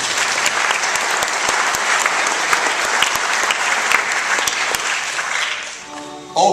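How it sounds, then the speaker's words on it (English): An audience claps steadily for all-conference players at a school board meeting, a dense sustained round of applause from a room full of people that fades out near the end. "Give them a round of applause,"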